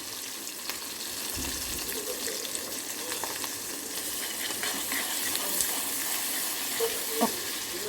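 Ginger garlic paste sizzles and crackles in hot oil in a pan of mutton curry, a steady frying hiss with occasional stirring pops close up.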